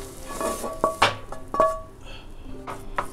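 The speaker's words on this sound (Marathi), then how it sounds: "थंड होण्यासाठी मी ह्या प्लेटमध्ये काढून घेते." Roasted stuffing for a fried pomfret being scraped from a pan onto a plate to cool, a few metallic clinks and scrapes of spoon against pan and plate, close and moderately loud, with kitchen clatter in between.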